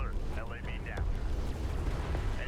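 Explosions from a cruise missile strike in the Deserts of Kharak strategy game, a rumbling blast with battle effects, heard under a caster's excited commentary.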